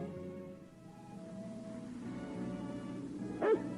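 A single sharp bark from a cartoon dog comes near the end after a quiet stretch of soft background music, brief and moderately loud.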